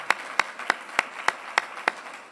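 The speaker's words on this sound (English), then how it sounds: "So let's just give a round of applause for that." Slow, evenly spaced claps ring out in a quiet school board meeting room, seven distinct hand claps in a steady rhythm rather than a full crowd ovation.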